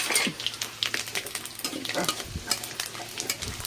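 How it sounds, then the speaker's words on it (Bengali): A tempering of panch phoron, bay leaf and dried chilli crackles and sizzles in hot oil, with irregular stirring scrapes and pops close up, steady and fairly quiet. "তেজপাতা, শুকনো লঙ্কা ফোড়ন দিয়ে ফোড়নটা হয়ে গেছে।"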